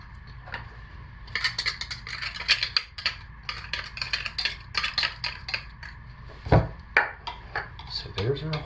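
Utensils clink and scrape against a container as colorants, including activated charcoal, are stirred into cold process soap batter, making irregular close taps and rattles with a few sharper knocks.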